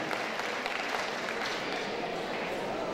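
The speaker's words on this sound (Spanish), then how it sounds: "Un aplauso para Fontecún y para el alcalde" Crowd applause for Fontecún and the mayor as a technical assistance agreement is signed in Sutatausa, moderately loud and steady, with faint voices mixed in.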